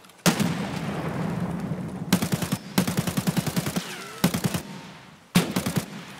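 Bursts of automatic gunfire in Escape From Tarkov, several loud close-range volleys of rapid rhythmic shots separated by brief pauses, with no talking.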